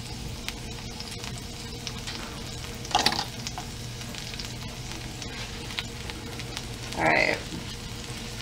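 Food fries in coconut oil in a pan, a steady sizzle running throughout with two brief louder crackles, while a person says a word over it.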